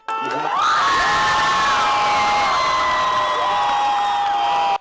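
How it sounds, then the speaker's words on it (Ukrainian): Protesters gathered outside the parliament building cheer loudly after a vote, with a sudden burst of whoops and sustained high shouting carried over a dense crowd roar that holds at full strength before cutting off. "Протестувальники під радою результат голосування зустрічають оплесками"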